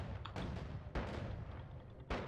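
Spell explosions in the magic-physics game Noita go off as three sharp, booming blasts spread over about two seconds, each with a short decaying tail.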